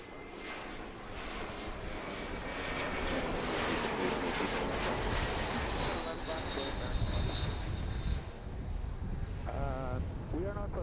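A jet airliner takes off from runway 27 left at Philadelphia airport, heard from nearby at Fort Mifflin as a loud, sustained engine roar with a high whine, holding steady over about ten seconds, with some wind on the microphone.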